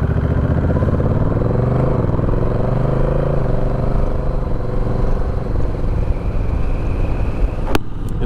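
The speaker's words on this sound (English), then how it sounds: "scoot went by ahead of me there. It looked like a Bergie 400." A motor engine drones steadily and loudly up close, its pitch shifting as it rides, while a Suzuki Burgman 400 scooter passes ahead; a brief sharp click near the end.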